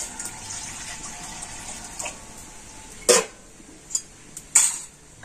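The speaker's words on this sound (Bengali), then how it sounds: "আর কড়াইতে আমি এখন দিয়ে দেবো জল।" Water is poured into a wok set on a lit stove, making a steady soft rushing stream, followed by a few sharp metallic clanks of the pan.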